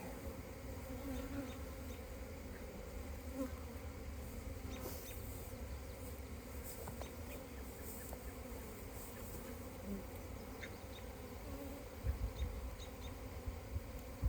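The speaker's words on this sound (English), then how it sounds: "That's a drone bee" A honey bee drone buzzes up close during a hive inspection, a continuous droning hum over a background of many more bees humming steadily.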